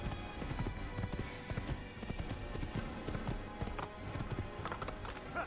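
Horse hooves clop and gallop at speed in Assassin's Creed, a rapid, steady drumming of beats with busy game ambience beneath, continuous and fairly close throughout.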